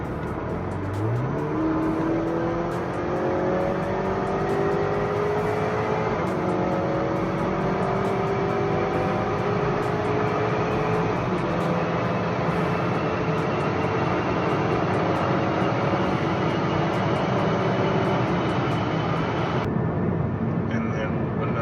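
A 2020 Honda Accord 2.0T accelerates hard without downshifting, its engine note climbing steadily in pitch through the gear for about twenty seconds, loud and close, before cutting off suddenly near the end.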